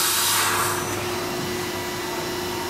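A Citizen A16 Swiss-type CNC lathe with a gravity bar feed runs at about 6,000 RPM, giving a steady, loud whirring hum with a constant tonal whine that holds evenly throughout, with no voices.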